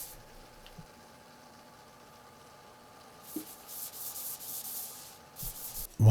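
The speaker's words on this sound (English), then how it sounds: "I sand the entire vase and gradually working up to 1500 grit for a smooth, polished surface" An epoxy and coolibah burl wood vase is hand sanded at a fine grit. The sanding is soft and close, first quiet, then a series of brisk rubbing strokes in its second half.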